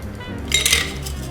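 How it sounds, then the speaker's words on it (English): Muddled cucumber cocktail being poured through a bar strainer, with a short burst of metallic clinks and liquid splashing in the middle, close and fairly loud over a steady kitchen background hum. "So we're gonna use this kind of strainer, okay?"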